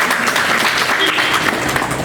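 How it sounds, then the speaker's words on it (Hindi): Audience clapping for teachers at a school summer camp prize-giving ceremony, a dense steady patter of many hands filling the room, moderately loud and unbroken, with a voice speaking over it. "इनके लिए भी जोरदार तालियां"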